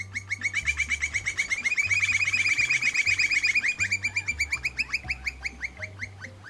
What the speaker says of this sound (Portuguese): Outra espécie muito conhecida é o pica-pau do campo.